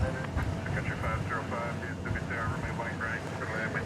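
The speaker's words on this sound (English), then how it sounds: "And that was the plane that had the One World livery, which Texas Girl alerted us to earlier." An airliner in oneworld livery passes at DFW Airport with a broad engine roar, heard under continuous talk through the whole stretch.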